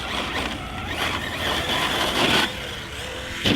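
A HoBao Hyper 8SC 4WD short course truck running on 4S power, its electric motor whining steadily with clattering mechanical noise, plus a louder surge and a brief thump near the end.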